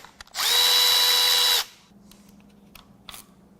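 A power tool whirs in one loud, close burst of about a second as it loosens bolts on a 2014 BMW 328i N20 2.0L engine, then quiet shop ambience with a few faint clicks follows.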